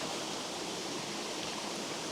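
A small Scottish river pours down over a waterfall in a continuous, dense rushing roar, close and steady throughout with no voices.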